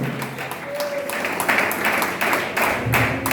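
A church congregation claps during a worship service, rhythmic applause in rising and falling bursts with a voice heard briefly among them.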